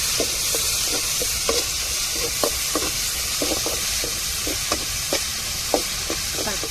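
Curry leaves hit hot oil in a pan with a continuous close sizzle, dotted with rapid little pops and crackles spread evenly across the sound.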